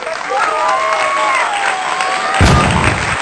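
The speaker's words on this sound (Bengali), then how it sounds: "জোরে হাততালি দাও" An audience at a balloon-popping competition, where players burst balloons with a needle held in the mouth, claps and cheers in a continuous noisy wash that swells near the end, with a voice talking over it.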